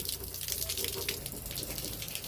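Water tank filling and overflowing, giving a steady splashing gush of running water throughout, close and fairly even in level.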